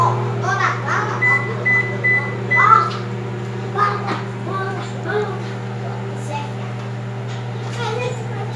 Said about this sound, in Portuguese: Vou testar no micro-ondas, tá?